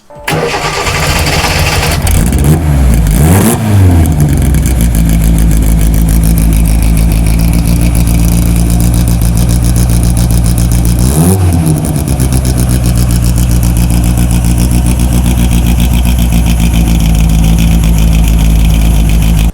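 An old Abarth 1000 TC replica engine roars loudly at about 102 decibels, revving up hard twice with a rough, rumbling drone sustained throughout, close and overpowering.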